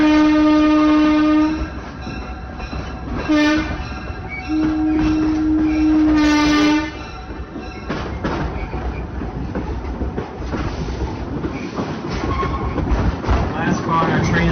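A heritage railroad train rumbles and clatters along with loud horn blasts sounding in the first half, the rolling rail noise continuing steadily afterward.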